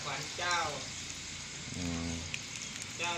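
Steady rain falls outdoors in a wet evening setting where frogs emerge, a soft continuous patter with brief tonal calls or voices breaking through at moments.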